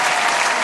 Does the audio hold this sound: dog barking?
no